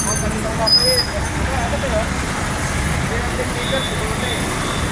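Constant road traffic noise from a congested street, a steady broadband rumble and hiss of passing vehicles that holds at an even level throughout, with no clear single vehicle standing out.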